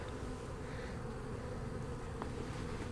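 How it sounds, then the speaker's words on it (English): Honey bees buzz at an open beehive, a faint, steady hum of many insects without any talking. "bees are much calmer than that number 4 hive"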